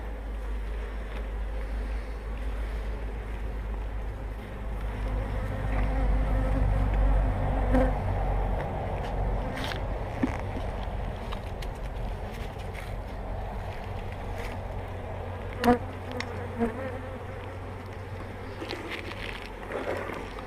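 Honeybees swarm around an opened hive during a spring inspection in Meylan, making a steady, dense buzzing drone that fills the whole stretch, with a few faint clicks and knocks and no voices.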